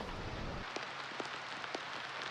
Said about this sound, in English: I like the rain sounds though, you know? It's a nice sound when you come inside here. It's got like the metal tin roofy kind of sound.